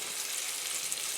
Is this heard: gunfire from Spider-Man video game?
no